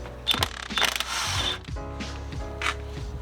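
A ratchet clicks in several short, quiet bursts while undoing the brake hose on a Subaru strut assembly, with faint metallic handling noises between strokes.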